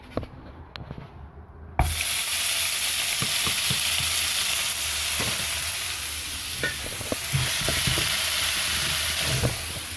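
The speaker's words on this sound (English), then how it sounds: "I'm just going to do the mincemeat separately in a frying pan" Minced meat crackles and sizzles loudly and steadily in a frying pan, with occasional scraping clicks from stirring, after a short quieter start.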